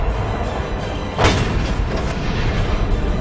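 A single heavy cannon shot from a tank in a World War II tank video game, the Charioteer, booms once over a constant loud engine rumble.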